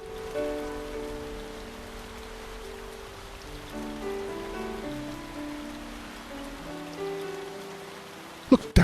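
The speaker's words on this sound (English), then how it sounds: "Definitely looks like a rainy evening in North England." Rain falls over a park in North England in the video game Lushfoil Photography Simulator, a steady soft patter on surfaces under a calm layered ambient music bed, ending with a couple of sharp clicks.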